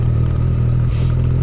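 A Yamaha Tracer 9 GT+ motorcycle engine running with a steady, loud low hum, its tone holding even throughout, with a brief slight dip midway.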